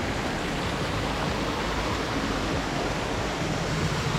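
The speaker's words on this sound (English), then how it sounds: "Oh, there's a little waterfall up here." Small waterfall on a hiking trail near Jardin, Colombia: a steady, faint rush of falling water, even and unbroken throughout, with no voices.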